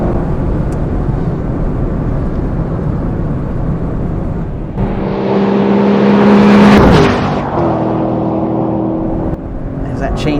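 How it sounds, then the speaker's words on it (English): A 2024 Lexus LC 500 Convertible's engine is driven hard uphill after a downshift, its note rising and swelling to a loud peak before easing, with a voice talking over it for much of the time. "Change down, uphill, hard on the gas, flat out, up this hill."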